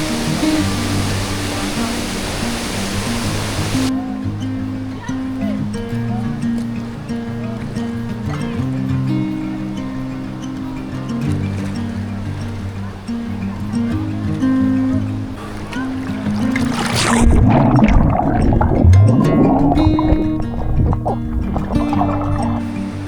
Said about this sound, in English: in my last video, I didn't get to show you guys this waterfall, but there's another one.